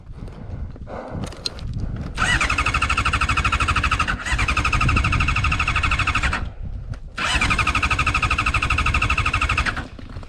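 A fuel-injected motorcycle engine repeatedly cranking with a loud, steady mechanical whirring in long bursts, pausing between attempts, close and loud, without catching.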